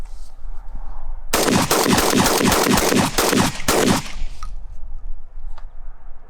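Shotgun fired rapidly, a dense burst of roughly a dozen loud, close blasts packed into under three seconds, with a Laserspeed LS-M3 laser mounted on it, then quiet outdoor background.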